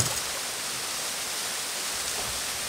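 A waterfall at a bass-fishing spot gives off a steady, even rush of falling water, a broad hiss that holds constant with nothing else standing out.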